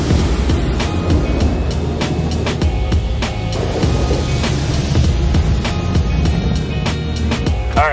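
An automatic car wash rinses a small Audi S3, with loud continuous spraying and rushing water drumming on the bodywork and steady mechanical rumble throughout, no voices.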